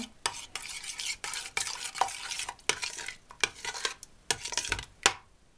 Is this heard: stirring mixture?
yes